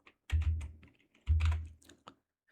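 Two short bursts of computer keyboard typing, each a quick cluster of close, soft key clicks separated by a brief pause, with a few isolated taps after and no talking.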